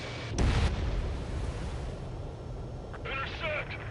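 Missile explosion destroying an anti-air radar vehicle in the Ace Combat 7 video game, a sharp loud burst followed by a rumbling decay, with in-game radio voices and effects faintly underneath.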